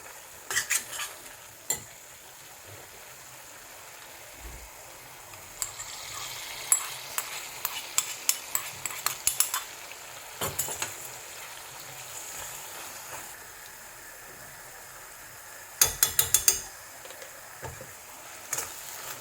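Cashew nuts frying in ghee in a pan for ash gourd halwa: a soft, steady sizzle with bursts of spoon-on-pan scraping and clinking that come and go, close up, with no voices.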